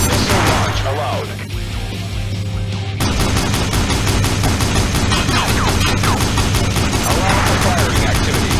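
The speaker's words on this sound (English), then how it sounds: "Release the missile. Faster. Missile launch allowed." Video game combat with a missile launch and gunfire, dense rapid automatic fire and explosive bursts, loud and continuous, briefly thinning before resuming at full intensity.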